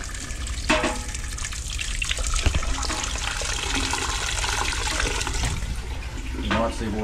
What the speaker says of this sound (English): We'll run some water in there and see what happens.